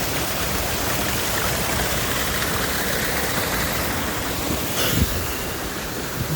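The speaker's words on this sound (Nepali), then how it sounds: "ढुङ्गा भित्रबाट पानी आउँछ यार पुरा भित्रबाट पानी आउँछ" Water gushes out from inside a rock on a mountainside, a steady, loud rushing wash of flowing water with no voices, holding even throughout with a brief splashy surge near the end.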